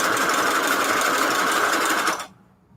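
A sewing machine runs steadily at speed for about two seconds, a loud, even mechanical whir that cuts off abruptly into near silence.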